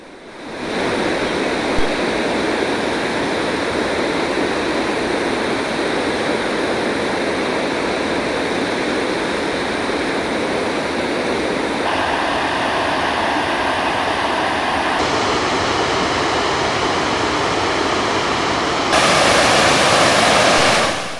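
A waterfall on Granite Creek in the Rockies roars in a loud, continuous rush of water, steady throughout with no voices.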